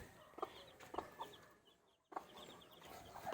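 An old mother hen clucks in short, separate bursts near a brooding nest of eggs, with a brief quiet gap and faint farmyard background around her.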